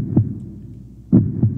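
A heartbeat from a lie detector truth verifier, amplified and close, with low thumping beats that come singly and then as a quick pair, no talking.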